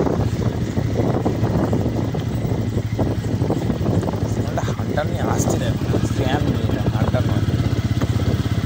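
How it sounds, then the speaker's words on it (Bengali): Motorcycle carrying three riders across the Mahanadi river near Siliguri, a steady engine drone under constant wind rush, close and continuous for the whole ride. "মহানদীর ওপর দিয়ে বাইক রাইড"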